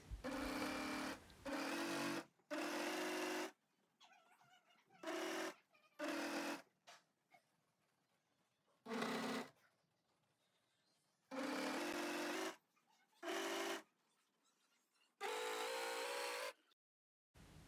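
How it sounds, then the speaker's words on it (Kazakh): A sewing machine stitches a kimono robe seam in repeated close, loud whirring bursts of one to two seconds each, separated by quiet pauses with faint handling noise. "осы аралықты қосып тігеміз"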